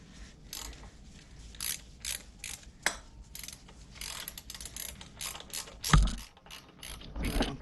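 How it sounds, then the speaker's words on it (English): Ratchet wrench clicking as it runs in the stock exhaust bolts on a 2008 Harley-Davidson Sportster 883C, close and alone: irregular bursts of rapid pawl clicks with short pauses and one sharper metallic knock near the end. "I'm going to run them in first with the ratchet here"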